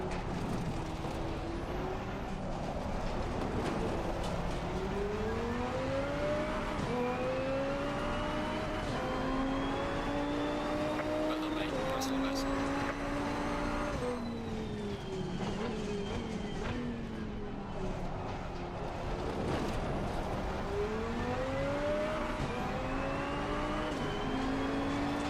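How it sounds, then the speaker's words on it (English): A GT2 race car in the racing game Assetto Corsa Competizione, its engine note climbing through gears with repeated upshifts and deceleration dips, heard steady and clear from the cockpit with no voices. "Right now I'm in ACC driving a GT2 car."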